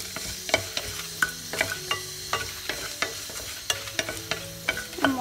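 Fenugreek seeds and dried chillies fry in hot oil for a Kerala varutharacha sambar, a steady close sizzle broken by repeated sharp scraping stirs and clinks of a spoon against the pan.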